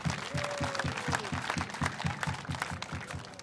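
Loud, steady group clapping at an official commune ceremony, beating in a tight, even rhythm throughout with a brief whistle-like tone early on.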